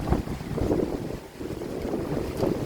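Strong gusting wind rustles tree leaves near the Chanta Then waterfall in Si Racha, Chonburi, a continuous broad roar with fluctuating intensity and no talking.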